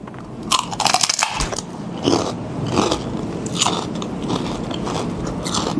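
Homemade spiced potato chips bitten and crunched up close, a sharp loud crack followed by a run of brittle chewing crunches that keep going steadily with no talking.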